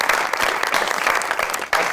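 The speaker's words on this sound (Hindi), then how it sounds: "बहुत सारी तालियों में जी।" Studio audience applause greeting a guest on a Pakistani talk show, brisk dense clapping that keeps going steadily for a couple of seconds.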